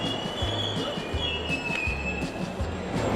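A metro train running, with a steady close rumble under a thin, sustained wheel squeal and faint rhythmic clatter, heard alone without voices.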